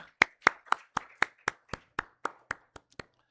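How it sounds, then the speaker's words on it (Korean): A church congregation claps during a Sunday worship service, about a dozen sharp, evenly spaced claps in unison that fade in strength toward the end, with no talk over them. "박수."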